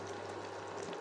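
Pieces of katla fish fry in hot oil for a fish rezala, giving a continuous soft sizzle and crackle at moderate level, heard alone.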